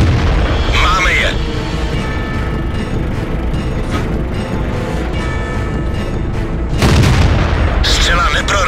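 World of Tanks battle with a KV-1 tank: heavy cannon booms and shell impacts rumble loudly and continuously, with another big blast near the end, while a voice talks over the game action.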